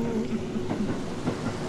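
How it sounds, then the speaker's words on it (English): A train passes in the Burger & Frights horror video game, its steady rumble and rail clatter droning continuously at moderate loudness with faint hiss on top. "Oh, wait, there's a train. There's a train right here."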